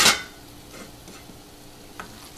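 Squid cooks in a pan with a quiet, steady sizzle. It opens with a brief loud clatter, then goes on as faint frying with a few small scraping clicks, close by and with no talking.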